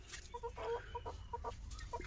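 Broody hens on a small poultry farm give short, repeated clucks in quick bursts, some doubled, close by and fairly soft over a low background hum.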